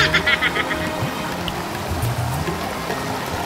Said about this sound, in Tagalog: O lumalakas nga ang tubig